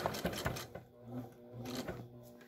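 A Singer Facilita 43 sewing machine backstitches a fabric mask in short rapid bursts of mechanical chatter, close and fairly quiet, with a brief pause between the runs.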